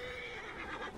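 A horse whinnies in the video game Assassin's Creed Origins, a single drawn-out neigh lasting about a second, clear and fairly close with no talking over it.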